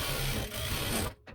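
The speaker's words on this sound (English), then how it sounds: "the motor in an industrial sewing machine is somewhat akin to a car motor" An industrial sewing machine motor runs in a loud, close, steady mechanical whir with a rapid stitching rattle, then cuts off abruptly near the end, with no talk.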